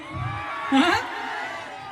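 Festival crowd at the Kanbai Mata utsav in a village, a dense wash of voices with shouts and whoops swelling briefly to a louder cheer before settling back into steady crowd noise.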